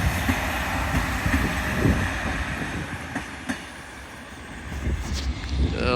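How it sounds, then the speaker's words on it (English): A Northern diesel multiple unit, class 156 on a service to Whitehaven, pulls out of Carlisle station with a steady rumbling engine and clicking wheels on the rails, heard from nearby with no talk. "Departing now is your 1324 Northern Train service"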